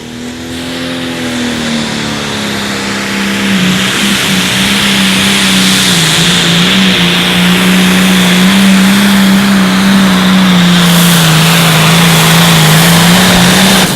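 A Light Limited Pro Stock pulling tractor, Rugrat Rampage, roars down the track at an outlaw pull in David City, Nebraska, its engine droning loud and sustained, rising and holding high for the full run with no break.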